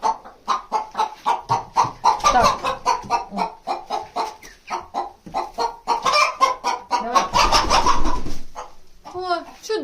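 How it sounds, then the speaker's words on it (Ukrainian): Broiler chickens cluck in rapid repeated bursts close by, a steady rhythmic chorus with a few children's voices mixed in. "І ось тут у нас зараз знаходиться бролер, друга партія."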